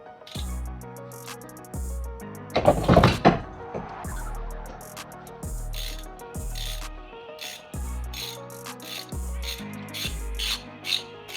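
A ratchet with an E16 socket working on the rear caliper housing bolts of a 2017 Citroen Berlingo, heard as repeated close, crisp ratcheting clicks in short bursts, with a louder clanking metallic handling passage early on.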